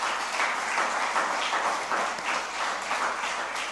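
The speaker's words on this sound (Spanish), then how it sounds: "denle un aplauso gigante a Dios por eso" A church congregation bursts into thick, continuous applause, many hands clapping together at close range, steady and full with no speech over it.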